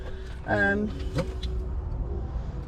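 Engine of a Vauxhall Crossland X hire car cranking and catching with a short burst, then settling into a low idle, with a voice talking nearby.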